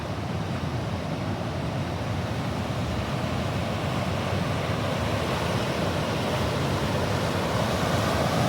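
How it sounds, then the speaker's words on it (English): Heavy river rapids or a waterfall ahead on a trip near Banff, a steady loud broadband rush of churning water that holds unbroken and close, with no voices. "From the sound of this, sounds like something's pretty heavy rapids or a falls or something coming up ahead"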